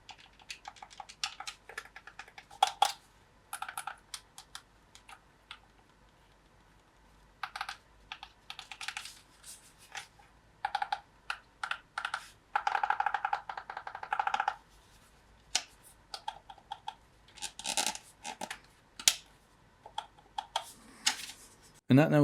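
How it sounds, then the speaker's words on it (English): Buttons on a PXN-P5 8K game controller with capacitive joysticks being pressed up close: rapid bursts of crisp clicks and tapping, some in fast runs and some in short clusters, with quiet gaps between. "I'll just leave you with some audio of the buttons being pressed"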